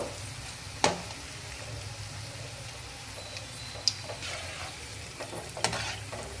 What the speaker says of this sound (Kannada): ಎಣ್ಣೆಲಿ ಅಡುಗೆ ಮಾಡ್ತಿರ್ಬೇಕಾದ್ರೆ ಈ ರೀತಿ ಕರಿಯುವಾಗ ಹುಷಾರಾಗಿರ್ರಿ.